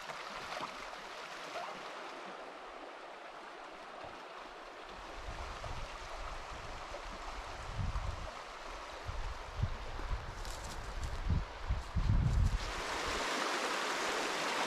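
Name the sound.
shallow fast river rapids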